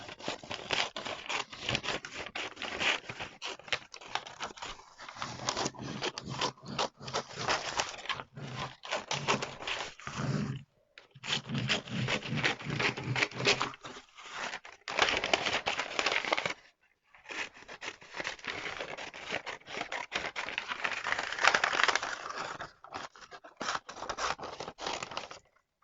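Scissors snip through a fabric pattern piece with sewing allowance in repeated close, crisp cutting bursts broken by short pauses, faint and unaccompanied by talk.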